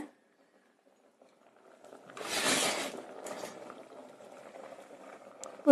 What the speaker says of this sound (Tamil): இது கொஞ்சம் நல்லா கொதி வரட்டும்